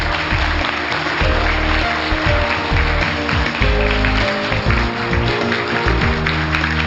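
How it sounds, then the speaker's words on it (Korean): An audience applauds a guest called to the stage at a televised community-communication forum in Seosan, a steady wash of clapping mixed with a background music bed that plays throughout. "큰 박수 부탁드립니다"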